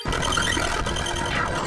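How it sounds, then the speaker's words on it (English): A lightning spell effect from the video game Final Fantasy VII crackles and buzzes loudly and continuously for under two seconds, with no voices. "That's a sound. It's the sound of lightning."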